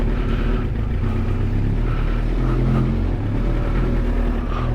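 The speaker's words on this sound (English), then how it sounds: "Oh, listen to that engine." A Suzuki Gixxer motorcycle engine with 100,000 miles runs loudly and close, a steady low throbbing rumble with slight rises in pitch, no talking.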